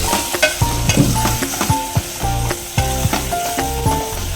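Ginger garlic paste stirred into a frying pan for misal pav, loud repeated scraping and clanking of a spoon against the pan over a steady sizzle, close and busy.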